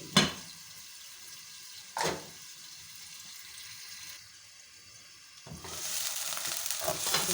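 Thin tomato slices fry in a pan for a matar aloo salan, giving a soft, steady sizzle that swells toward the end, with a couple of brief stirring clatters and no talk.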